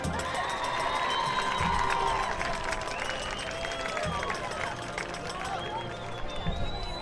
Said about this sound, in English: Let's have a round of applause for your sophomore Duchess, Mia Ramirez.